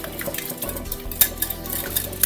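Scraping and clinking of a spoon stirring sour cream with egg white and yolk in a bowl, repeated soft strokes close up, with occasional sharper taps against the side.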